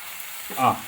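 Egg bhurji with onions frying in a pan while being stirred, a brief close sizzle that swells with a scrape of the spatula, no talking.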